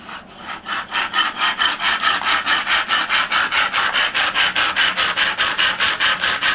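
A bow drill spins a wooden spindle against a wooden fireboard, giving a loud, steady back-and-forth rasping with about three strokes per second and no voices.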